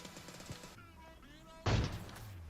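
A single sharp sniper rifle shot from an AWM in PUBG Mobile gameplay cracks out suddenly after a quieter stretch of game sounds, loud and brief with a short decaying tail.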